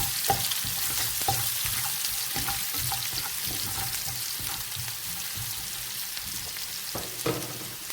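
Onions and garlic sizzle and crackle in hot oil in a pan while being stirred, a steady frying hiss with soft scraping strokes, close and continuous without talk.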